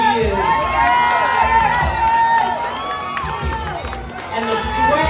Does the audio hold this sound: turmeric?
no